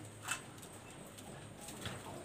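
Pigeons kept for sale at Daulatpur, Khulna, coo faintly in low soft murmurs over a quiet background hiss, with no speech.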